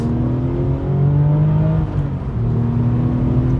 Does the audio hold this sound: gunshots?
no